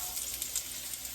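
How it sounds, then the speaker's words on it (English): Chopped onion, celery and carrots sizzle softly in a Dutch oven, giving a faint, steady hiss with tiny crackles near at hand. "Hear the little sizzle."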